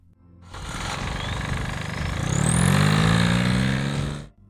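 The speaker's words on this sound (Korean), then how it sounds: "사실 디젤 엔진 특유의 소리는 이 모든 진동이 만드는 교향곡입니다." A diesel engine runs steadily up close, with a dense low rumble and vibration that swells louder partway through before cutting off at the end.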